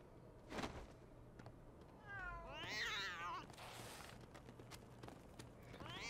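Filch's cat in LEGO Harry Potter: Years 1-4 meows in a drawn-out, wavering cry alone in the middle of the clip, over quiet game ambience with a few soft clicks.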